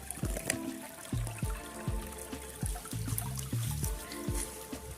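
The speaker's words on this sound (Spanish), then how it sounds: "Otro riachuelo ahí." A small stream trickles and babbles over stones near Los Pilones between Santiago and Puerto Plata, a steady close gurgle with irregular bubbling drips, alone without voices.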